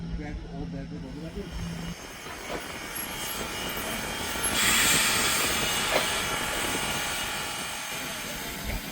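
A steam locomotive train departing a station rumbles and hisses continuously close by, a low tone fading early on, with a brief burst of hissing steam midway.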